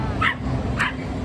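A ten-month-old puppy gives two short, sharp barks about half a second apart, close by and fairly loud over quiet street background.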